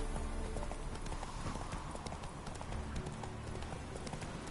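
Hooves of the horse Roach galloping in The Witcher 3, a fast, continuous clip-clop rhythm, close and steady throughout, with faint voice underneath.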